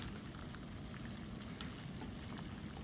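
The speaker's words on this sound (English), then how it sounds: "So I've been boiling the round ones as well, and this will take about 2 minutes." Round tofu dango balls boil in a pot of water, giving a steady, soft bubbling hiss that carries on evenly without a break.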